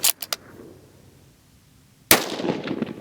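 A Savage rifle fired at a target outdoors: a few sharp cracks at the start, then a quiet gap before one loud, close shot with a ringing decay.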